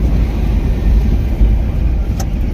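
Road traffic rumbles at a highway toll plaza in the morning: a steady low drone of engines and tyres, with a brief sharper sound near the end.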